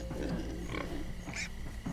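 Pigs oink and grunt in the video game Minecraft: Story Mode, faint, low snuffling sounds against a murky background drone for about two seconds.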